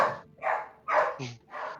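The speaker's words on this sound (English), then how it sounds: "you hear dogs bark. I think there's a canine in here." Dog barks played as a sound effect in a tabletop role-playing game, roughly four short bursts in an irregular rhythm, fairly near and moderately loud.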